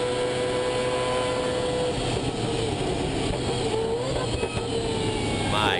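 Mazda 787B race car at speed during an onboard lap at Le Mans, its engine a dense, loud, continuous high-pitched wail with a slight rise in pitch near the end.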